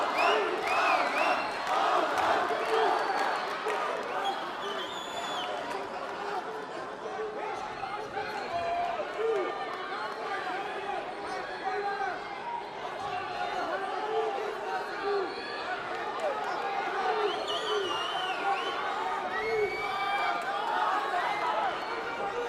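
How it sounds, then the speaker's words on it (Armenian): A large crowd roars and cheers continuously, with rhythmic chanting voices and excited shouts merging into a dense, steady wall of sound. "Բարձր ձայնով բոլորը բացականչում են"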